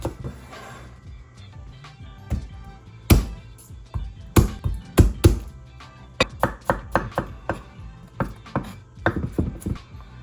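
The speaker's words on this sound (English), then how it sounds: "Let's start with our green onions." A knife chops green onions on a cutting board, starting with scattered taps then building into quick, sharp, close strokes in irregular bursts, later settling into a steadier rhythm.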